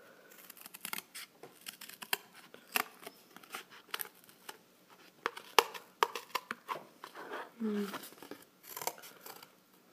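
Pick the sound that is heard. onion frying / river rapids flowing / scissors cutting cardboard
scissors cutting cardboard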